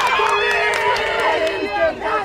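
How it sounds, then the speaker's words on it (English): Rugby players cheering a teammate after a big tackle in a Harlequins versus Pumas match, a loud burst of crowd voices and shouts close by. "And we have the teammates cheering him on there."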